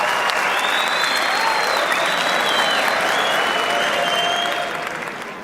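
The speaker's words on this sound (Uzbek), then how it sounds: "chiroyli qarsaklar" A comedy-show audience applauds an actor with a dense, steady round of clapping that holds for several seconds and then tapers off toward the end.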